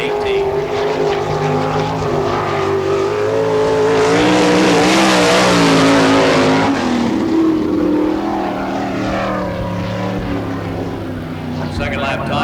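Sprint car number 18 driven by Brian Carlson circles a dirt oval at the All Star Circuit of Champions during Florida Speedweek in Barberville, its engine roaring loud and steady, swelling as it passes close and then fading slightly.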